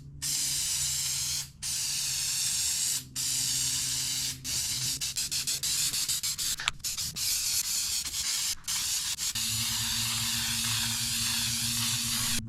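Aerosol adhesive sprayed onto a BMW X3 headliner, long loud hissing bursts separated by brief pauses, then quicker short sprays, close up.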